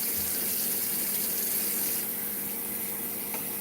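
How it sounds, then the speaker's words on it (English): Warm water runs from a kitchen tap in a steady, close hiss that softens slightly partway through and continues without pause, no voices over it. "I'm going to use a little bit of warm water from the tap."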